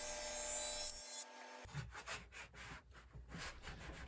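Close, dry scraping and rasping strokes of a chisel cleaning out a wood mortise, a series of short uneven scrapes following a brief high-pitched tone at the start.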